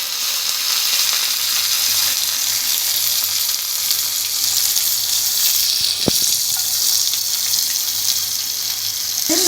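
Crushed garlic, onion and curry leaves fry in hot oil for a roadside tiffin-shop sambar, giving a steady, close sizzle with a single sharp clink of a utensil midway.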